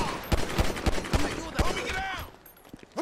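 Gunfire in Grand Theft Auto V: a rapid string of sharp, close shots cracking in quick succession, mixed with voices and game chatter, then a brief lull before another shot.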